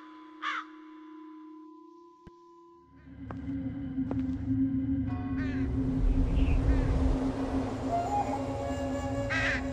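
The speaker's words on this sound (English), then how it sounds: "Large black crows." Crows cawing in a graveyard scene of the ghost-hunting adventure game The Lost Crown, a single harsh caw early, then a rising rumbling ambience with a low steady drone and more distant cawing later.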